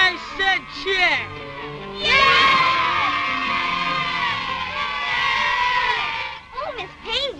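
A group of children cheers and whoops at a party in a 1947 comedy, their high voices rising into a loud sustained shout, then breaking into scattered yells and calls.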